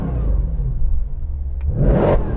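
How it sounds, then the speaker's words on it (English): A tuned Mercedes-AMG C63 Black Series V8 revs up close by, a deep idling rumble that swells into a loud, rising engine rev near the end. "The way that revs up, look at that rev."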